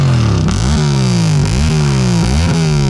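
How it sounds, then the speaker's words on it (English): A Yamaha Tenere motorcycle engine revs up and down repeatedly to clear the exhaust, loud and close, with rising and falling pitch about once a second. "Let me just clear my exhaust."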